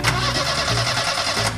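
Car engine cranks and catches in a short, loud burst with a rough mid-pitched rumble, close up and heard alone.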